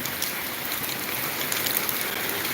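Heavy downpour in Bathinda, with streets and roads flooded like ponds; a steady dense hiss of rain falling continuously on surfaces, loud and close with no other sounds.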